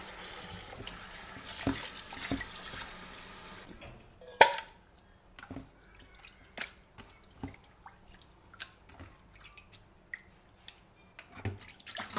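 Mutton pieces being washed in water, with splashing and running water at first, then irregular drips, squelches and handling knocks close by, and no talking.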